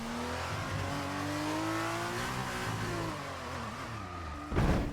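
An F1 race car in the F1 2019 game at the Bahrain circuit screams along at full throttle, its close, loud engine whine rising and shifting through gears before a brief rough burst near the end.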